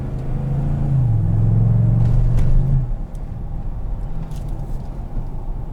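The V8 of a 2017 GMC Sierra All Terrain fitted with a cold air intake and catback exhaust gives a deep, loud exhaust drone that sinks in pitch over a few seconds, then settles into a quieter low rumble.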